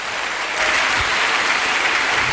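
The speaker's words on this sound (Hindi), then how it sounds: "जोरदार तालियां।" Audience applause for two leaders at a motivational gathering, a steady crowd of clapping that swells slightly after the start and holds at a loud, even level.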